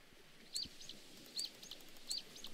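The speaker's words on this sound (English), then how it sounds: "Squeaking birds." Small birds chirp in the video game To the Moon, three short squeaky calls spaced roughly evenly, each a quick rising-falling tweet over a faint, steady background.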